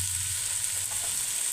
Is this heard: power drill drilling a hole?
no